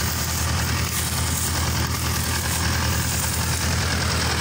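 A Claas Europa combine harvester engine idles steadily at low pitch with a rough, even rumble, loud and close with no talk.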